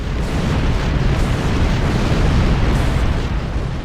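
A cloud of Metreon gas explodes after being shot in the starship game Star Trek Online, a loud, sustained blast of rumbling roar that fills several seconds without letting up.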